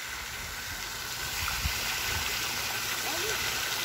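Water fountain in a park splashing steadily as a continuous broadband wash, fairly close and constant throughout, with people talking over it.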